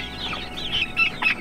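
Young chickens out on fresh grass give a run of close, short clucks and chirps in uneven bursts.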